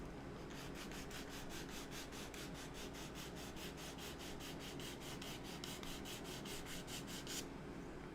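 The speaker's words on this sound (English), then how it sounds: "we're going to grab the sandpaper again" Sandpaper rubs back and forth along the edge of a handmade designer toy, a steady run of rapid, even rasping strokes, close and continuous, that stops abruptly near the end.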